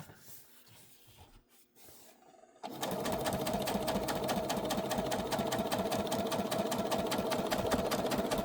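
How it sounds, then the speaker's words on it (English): A sewing machine stitches through paper on a scrapbook layout, running steadily and loudly with a fast continuous whir, after a few seconds of quieter handling noise. "I'm going to use the cut feature on my sewing machine to go ahead and cut that thread"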